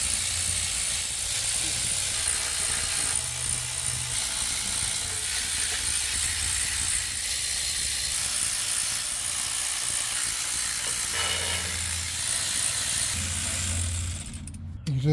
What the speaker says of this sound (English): We're going to go ahead and loosen up all 18 bolts.